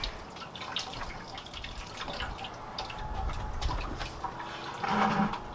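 Coolant drains from the radiator of a 1966 Ford F250 with a 352 engine, a soft continuous trickle and dripping of liquid, fairly faint and close, with no voices.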